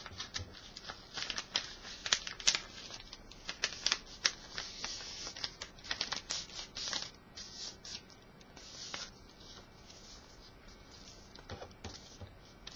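Paper is folded into a paper airplane with close, crisp rustles and creasing crackles coming in quick irregular bursts, louder at first and then settling into softer handling.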